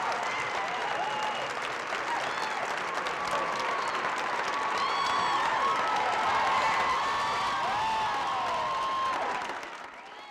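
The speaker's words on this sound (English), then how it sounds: "when she does make her entrance, it's welcomed with cheers, applause," A studio audience greets Oprah's entrance with dense, sustained applause and excited cheers and whoops, a loud crowd roar that swells midway before easing off at the end.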